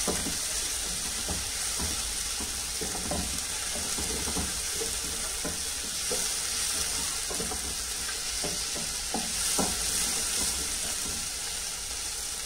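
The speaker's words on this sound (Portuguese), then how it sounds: "Eu vou colocar o meu alho, né? E vou deixar aqui, ó, refogando." Onion and garlic sautéing in a pan for chicken lasagna, a steady close sizzle with scattered clicks and scrapes of stirring throughout, no voices.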